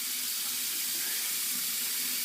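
Tap water runs steadily into a sink for a cold rinse after a shave, a soft continuous hiss and trickle heard close and alone.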